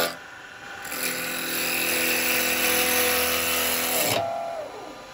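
A woodturning lathe gouge takes a heavy roughing cut on a yew bowl blank, a loud, steady tearing whir of cutting lasting several seconds before the tool lifts off and the spinning lathe hum remains.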